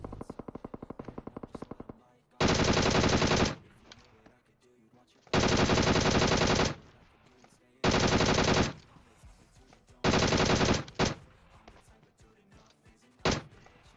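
Bursts of rapid automatic gunfire in PUBG Mobile, four or five loud sustained volleys separated by short pauses, with quieter clatter and a brief burst at the end.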